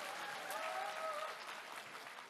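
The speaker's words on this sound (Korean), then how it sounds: "박수 한번 쳐주십시오." A party rally audience of members from the Daegu–Gyeongbuk region claps together in a steady, dense wash of applause that fills the whole stretch at an even level, fading slightly toward the end.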